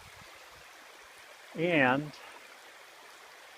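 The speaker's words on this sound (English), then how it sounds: "it's just this cascading waterfall." A waterfall cascades through a flume on the western side of Crawford Notch, a steady broadband rush filling the background throughout, with a brief spoken word partway through.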